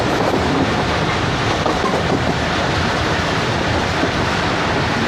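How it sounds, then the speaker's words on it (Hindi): The 14DN Awam Express passenger train runs downhill near Rawalpindi, making a loud, dense, continuous rumble with faint rhythmic clatter of wheels on rails, heard close and steady throughout with no voices. "यानी कि उतराई कर रही है ट्रेन बकड़ाला की तरफ"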